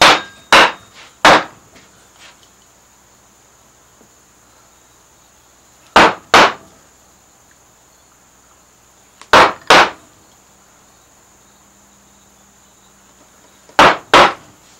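A mallet drives a 3/4 inch carving gouge into wood for strapwork on a box, sharp woody knocks coming in separated pairs and short clusters with quiet pauses between, close and distinct.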